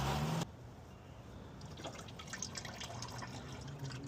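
Motor oil draining from the oil filter area of a 2001–2006 Lexus LS430 into a drain pan, a steady close trickle with soft dripping, heard alone after a brief louder noise at the start.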